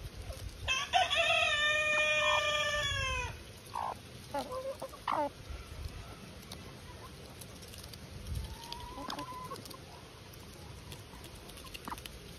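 A rooster crows loudly and close in one long harmonic call, followed by scattered short clucks and soft scratching, then fainter clucking in a quiet yard.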